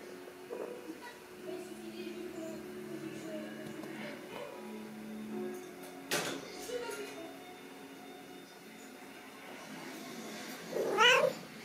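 A house cat meows for kibble, several short plaintive calls spaced apart and one louder, rising cry near the end, while someone talks softly to it in between.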